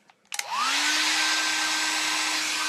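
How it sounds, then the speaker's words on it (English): A blow dryer clicks on and spins up to a loud, steady whooshing roar with a constant motor whine, running alone close by. "Then the blow dryer."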